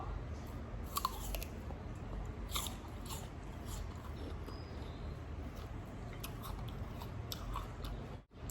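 Sugar-coated fresh fruit, soft rather than crisp, bitten and chewed close up, with soft repeated crunching and moist chewing sounds over a few seconds.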